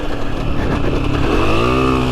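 Honda CRF250F trail motorcycle, the largest of Honda's trail bike range, with its single engine revving steadily and loudly up close, the pitch climbing and holding with no voices present.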